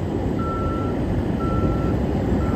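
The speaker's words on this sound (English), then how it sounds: "They got the dump truck with a full of gravel" A dump truck loaded full of gravel backs up on a road being resurfaced with tar and gravel, its reversing alarm sounding slow, evenly spaced beeps over a loud, steady diesel engine rumble.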